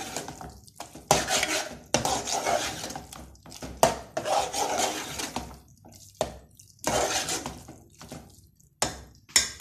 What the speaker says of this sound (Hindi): इसको अच्छे तरीके से भूनना है, चमचा चलाते रहना है